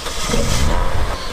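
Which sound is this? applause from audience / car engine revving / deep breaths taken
car engine revving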